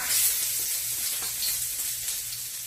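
Garlic sizzles in hot oil in a pan, a close, continuous crackling fry with no talking over it.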